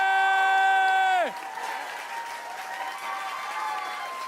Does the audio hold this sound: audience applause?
yes